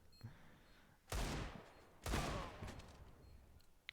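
AWP sniper rifle in Counter-Strike: Global Offensive fires two loud, sharp shots about a second apart, each with a short ringing tail, over a quiet background.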